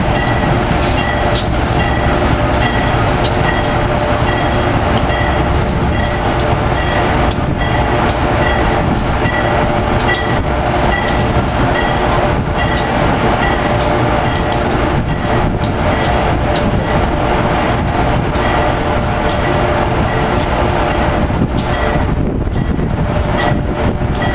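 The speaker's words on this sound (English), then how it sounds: "Here we have the movement of P32-8 512 being moved out of the inspection pit." A P32-8 locomotive rolls out of an inspection pit in a rail yard, a continuous heavy rumble with rattling clatter and wind buffeting the microphone throughout.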